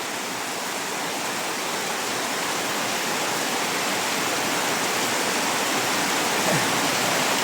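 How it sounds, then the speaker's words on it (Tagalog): Heavy rain pours down steadily with rushing floodwater, a dense, loud, unbroken roar of water lasting throughout with no voices. "Sobrang lakas ng ano ngayon ulan."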